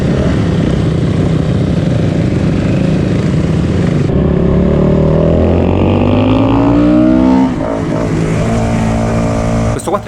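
A 450 single-cylinder motorcycle engine pulls hard at low revs on a twisty mountain road, its loud, close, steady thump rising in pitch through the gears and ending with a brief shift.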